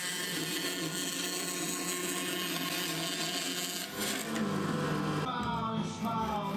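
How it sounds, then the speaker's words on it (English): Steady, close bandsaw cutting through oak-veneered MDF panels in a workshop, a continuous rasping whine with a slight change in tone partway through and some clatter near the end. "which I then cut out of the bandsaw"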